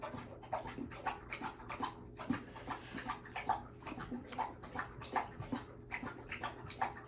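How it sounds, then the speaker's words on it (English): A big dog pants rapidly and splashes water in steady rhythmic bursts, close and fairly loud, with a wet sloshing quality throughout and no talking. "This is what it's like living with a big dog,"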